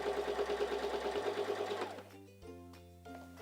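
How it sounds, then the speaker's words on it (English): Singer 3337 sewing machine running a straight stitch, a steady close motor hum with fast rhythmic needle chatter that slows and stops partway, followed by a few light mechanical clicks. "let's press down on our foot control for a straight stitch"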